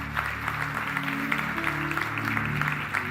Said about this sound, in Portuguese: Você pode dar um aplauso a ele?